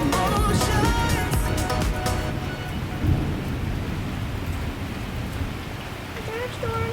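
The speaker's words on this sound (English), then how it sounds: "Yeah, just a summer storm." Summer thunderstorm with heavy rain pouring steadily and a deep rolling rumble of thunder, loud and close, with brief voices and faint tonal sounds near the start.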